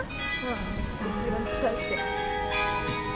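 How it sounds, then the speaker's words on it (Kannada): A church bell rings in a small Dutch town, steady tolling tones carrying through the street under nearby background noise and faint voices. "ಚರ್ಚ್ ಬೆಲ್ಲಾಗ್ತಾ ಇದೆ"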